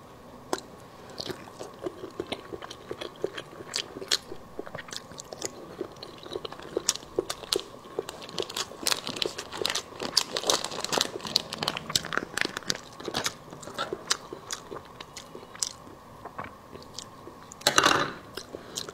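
Preserved egg sausage is chewed close to the mic in ASMR style, with wet crunching bites, crinkling wrapper sounds and irregular soft clicks, rising to a louder crunch near the end.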